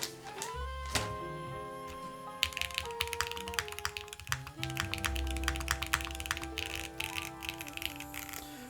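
Typing on a Mode Encore mechanical keyboard fitted with granite switches, a quick run of close, crisp clacks and taps, some sharp and evenly spaced, others in rapid bursts, over a faint tonal background.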